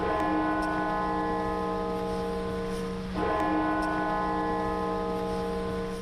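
Church bells tolling at Washington's National Cathedral: a steady, ringing bell tone holds throughout, with one fresh strike about halfway through, loud and resonant with a long sustained hum.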